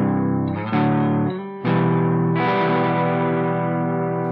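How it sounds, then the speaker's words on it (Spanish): Electric guitar through a distortion pedal used for rhythm parts: a few sustained, heavily saturated chords ring out one after another, sharply attacked and slowly decaying. "Una distorsión propiamente dicha,"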